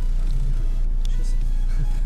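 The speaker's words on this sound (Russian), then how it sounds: "там Мерс едет" A Mercedes car drives past on a road, a steady loud low rumble of engine and tyres holding through the whole stretch with faint background sounds.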